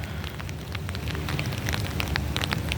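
Steady rain patters on surfaces outdoors near a park, a dense continuous hiss with scattered sharper drops, moderately loud and with no talking.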